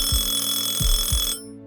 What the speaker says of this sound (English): A phone. 2 loud, jarring rings.